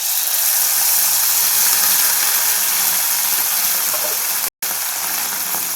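Potato sev dough frying in hot oil over a high flame, a dense, steady, loud hiss and crackle that fills the clip, broken once by a brief dropout near the end.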